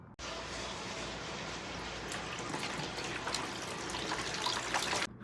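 Water runs steadily from a tap while being fetched for a pedicure, a faint continuous splashing stream that starts abruptly and stops at the end.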